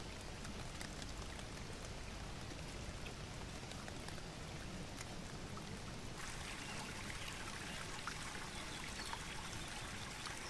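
Steady rushing and trickling of a small countryside stream, water splashing continuously at close range with no pauses, no voices.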